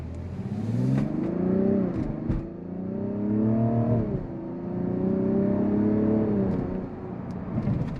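A 2024 Mazda CX-90 three-row SUV pulls away from a stoplight at light throttle, its engine note climbing steadily through two smooth upshifts of the 8-speed transmission, heard from inside the cabin with no voices.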